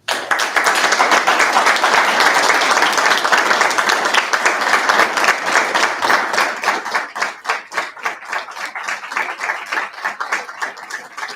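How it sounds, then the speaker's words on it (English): Audience applause for a university president walking to the podium at a student government meeting, a dense sustained clapping that thins into scattered, slower individual claps near the end. "If you would help me in applauding her while she's on her way to the podium"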